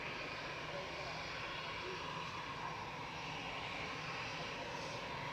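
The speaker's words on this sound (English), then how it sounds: "It's like the A380 has got all of its engines going." Airbus A380 jet engines running at Manchester Airport, a steady, distant broadband roar that holds constant throughout with faint voices mixed beneath it.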